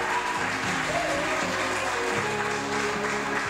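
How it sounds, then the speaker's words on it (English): Applause from a pageant audience for the Miss Polonia USA contestants, dense steady clapping throughout with faint voices and some tonal sound mixed underneath. "Let's have a big round of applause for the girls."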